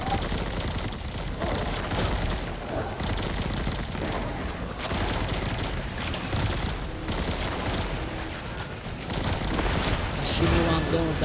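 Gunfire in the Destiny 2 video game: dense, continuous bursts of shooting and explosive game effects with a voice talking over the action.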